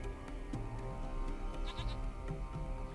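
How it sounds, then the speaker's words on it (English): A small white-furred goat in the video game Lost Horizon bleats in short, wavering calls over a steady game ambience, several bleats spread across the moment with no talk. "It's a small goat."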